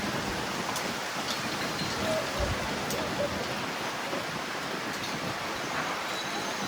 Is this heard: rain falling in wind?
yes